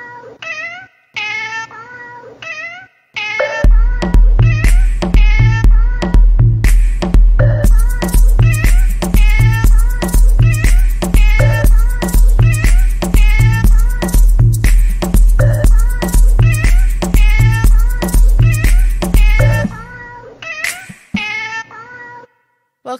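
Several cats meow loudly and repeatedly in a close, clear sequence of drawn-out, overlapping cries over a steady low hum, with brief quieter pauses at the start and end.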